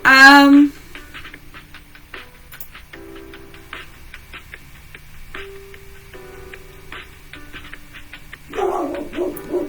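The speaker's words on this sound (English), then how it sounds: "there's the dog again" A dog barks in a short loud burst at the start and again near the end, with indoor ticking, clicking and room noise between.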